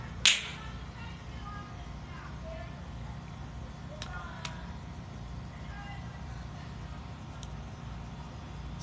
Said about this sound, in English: when I snap my fingers, you will feel this cosmic sonic boom